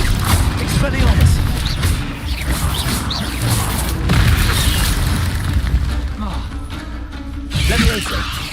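Magical spell blasts and booms in the wizarding video game Hogwarts Legacy, loud bursts and mechanical whooshes during a spider fight, with a voice shouting over the action.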